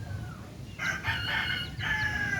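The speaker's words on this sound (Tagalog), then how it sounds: "O yan, manok. Sabungin." A fighting cock on a small Philippine mini farm crows loudly nearby, one long drawn-out cock-a-doodle-doo with a brief break, over low background noise.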